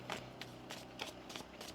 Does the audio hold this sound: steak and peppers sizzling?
no